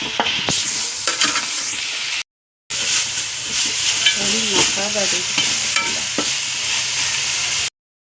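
Onions with salt sauté in a pan for spicy chicken gravy. A loud, continuous sizzle and hiss is punctuated by repeated spatula scrapes and clatters, with two short silent breaks.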